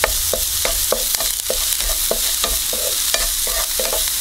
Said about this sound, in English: Saute this up.